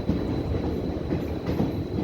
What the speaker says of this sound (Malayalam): വേനൽക്കാലത്തെ ഈ മനോഹരമായ ഒരു യാത്രയാണ് ട്രെയിനിൽ നമ്മളിന്ന് യാത്ര ചെയ്യുന്നത്